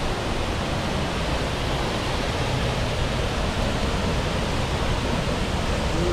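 A roaring waterfall in Wales heard up close, a loud, steady, unbroken wash of rushing water that fills the whole clip with no voices over it.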